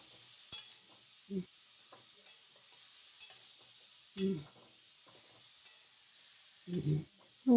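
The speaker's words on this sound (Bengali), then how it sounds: "ভালো করে নাড়াচাড়া করে নিচ্ছে" A few brief, soft scraping stirs of potatoes, cauliflower, tomatoes and peas in a pan over a faint, steady sizzle, spaced out with quiet gaps between them.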